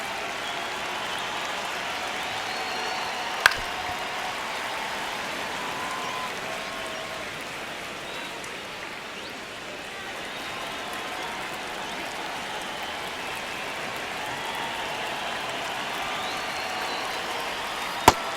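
Steady stadium crowd murmur and cheering from a simulated MLB The Show 26 baseball game, a dense continuous wash of noise with a couple of sharp brief clicks.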